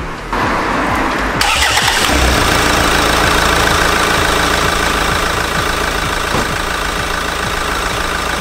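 Car engine being cranked after an injector repair: a brief starter whir, then the engine catches and settles into a loud, close, steady idle with a rhythmic knocking pulse.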